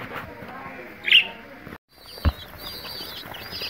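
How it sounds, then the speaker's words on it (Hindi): Soft, thin chirps from young pigeons, a couple of brief sharp squeaks standing out over quiet background rustling. "ये जो लड़ाई कर रहे हैं ना कबूतर, ये कबूतरों के छोटे से बच्चे हैं"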